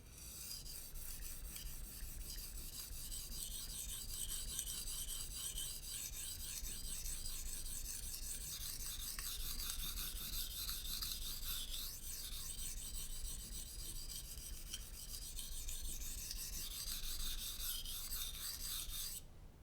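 A knife blade rasps steadily against an Arkansas sharpening stone in continuous back-and-forth strokes, close and fairly loud, with no voices.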